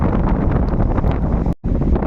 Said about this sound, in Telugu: చాలా భారీ ఎత్తున గాలి వర్షంతో ఈరోజు మనం తమిళనాడు వాతావరణాన్ని గమనించాం